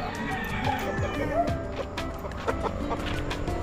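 Chickens cluck and squawk nearby at a rural spot in Lian, Batangas, a busy overlapping chorus of short calls with a rooster-like cry mixed in.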